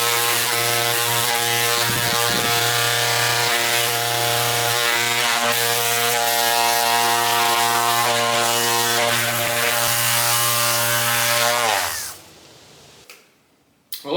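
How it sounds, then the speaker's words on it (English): A random orbit sander fitted with an 80-grit pad runs loud and steady over the metal top of a Craftsman 10-inch table saw, droning with a constant hum for about twelve seconds before spinning down and stopping. "80 grit sanding pad, random orbit sander"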